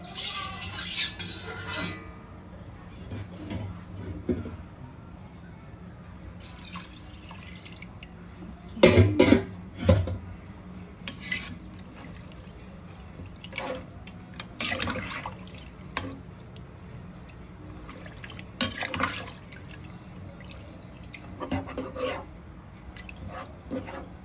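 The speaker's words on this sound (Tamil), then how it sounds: "இந்த இரும்பு சட்டியிலே நான் கொஞ்சம் தண்ணி ஊற்றணும் அப்படியே கலந்துக்க போகிறேன்" Water poured into an iron pan and stirred while cooking mutton biryani, heard as intermittent faint splashes, trickles and scraping rubs spread across a quiet kitchen background, with no talking.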